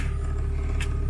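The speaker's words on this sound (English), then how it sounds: "you can hear that motor kick in." A small motor in a trail coffee maker hums at a steady low pitch, close and constant, with a brief hiss-like burst near the end.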